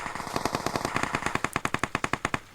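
Rapid automatic gunfire in PUBG Mobile, about twenty evenly spaced shots ripping out in a steady burst, loud and close, with no voices over it.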